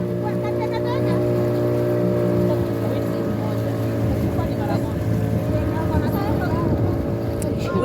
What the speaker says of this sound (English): We are just enjoying the boat ride anyways. This is what we call the boat riding.